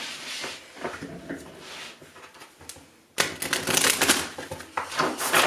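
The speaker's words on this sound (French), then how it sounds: "Je fais le brassage en direct live devant toi." A deck of tarot cards being shuffled by hand, quiet riffling and shifting at first, then a louder, denser flurry of crisp card flicks up close.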